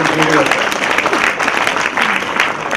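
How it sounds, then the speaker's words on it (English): An audience at the IMS Ghaziabad PGDM annual convocation applauds the chief guest with dense, sustained clapping that fills the hall, loud and close, with faint voices mixed underneath. "A big round of applause for our chief guest."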